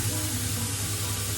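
Mushrooms browning in a pot for coq au vin give a steady, even sizzle with a constant hiss and no breaks, close and fairly loud, with no voices.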